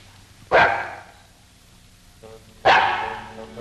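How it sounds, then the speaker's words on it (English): A small dog barks twice, a loud close yap near the start and another about two seconds later, with quiet room tone in between. "Well, there's your dog anyhow."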